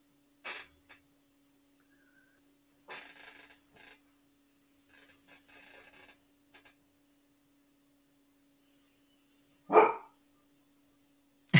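Two dogs indoors give a few scattered barks and snuffly bursts against near silence and a faint electrical hum, ending with one loud, sharp bark.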